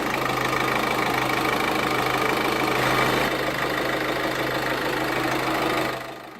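A 2013 Peugeot 3008's 1.6-liter turbo diesel inline four-cylinder idles with the hood open, a steady close clatter with a constant low hum that eases slightly near the end.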